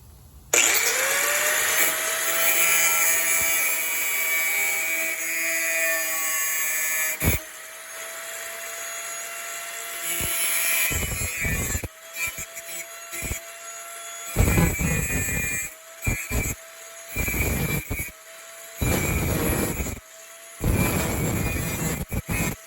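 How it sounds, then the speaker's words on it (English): An angle grinder cuts small keyways into a Dodge Ram rocker panel. It spins up into a sustained, loud, whining grind, then breaks into a series of shorter, choppy bursts with pauses between them. "now I'm going to take my grinder, I'm going to cut some little keyways in here"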